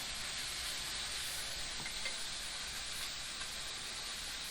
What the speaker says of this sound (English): Going to let those sear off a little bit.